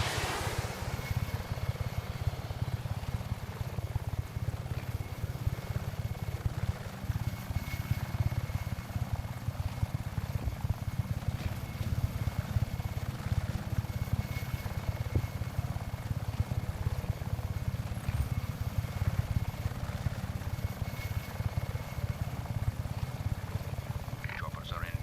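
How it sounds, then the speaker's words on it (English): Helicopters in the video game Just Cause 3 produce a steady low rotor thump and engine drone that holds throughout, with speech heard over it. "Repeat, choppers are inbound."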